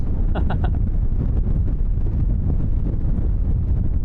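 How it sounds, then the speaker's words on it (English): Northwesterly wind buffeting a microphone at Christchurch airport, a steady low rumble of gusts throughout with a few faint higher tones early on. "There's that northwesterly wind coming through for you guys."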